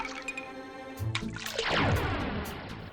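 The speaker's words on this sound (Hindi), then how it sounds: "मुझ पर आप इस तरह से पानी फेंक रहे हैं?" In a cartoon, water is thrown with a sudden whooshing splash that swells and trails off into dripping, following a short musical cue.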